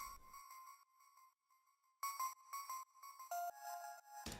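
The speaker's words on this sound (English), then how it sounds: "There's this high beep thing, which sounds like this, which I use my microcorg for." A bright, high synth beep from a microKORG plays in sustained electronic tones, pausing briefly, then returning louder in choppy repeated bursts before cutting off abruptly.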